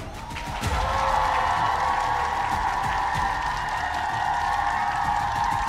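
Studio audience applause at a Vietnamese television dating show, a dense, steady wash of clapping that starts after a brief quieter moment and holds at full strength to the end, with no speech over it.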